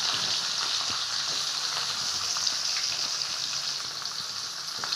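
Onions sautéing in a pan with cumin and garlic for potato rice, giving a continuous bright sizzle with small pops and light stirring, close and steady without speech.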